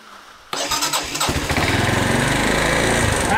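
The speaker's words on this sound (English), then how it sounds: "Throttle's definitely not sticking. Try a bit more choke." A China ATV engine with the choke on cranks briefly, then catches and runs, its close, loud, rapid sputtering firing settling into a steady running roar.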